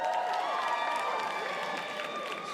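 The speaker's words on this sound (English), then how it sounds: "Clap, round of applause." A comedy-club crowd breaks into a brief round of clapping mixed with some cheering, steady and moderately loud throughout, with no talking over it.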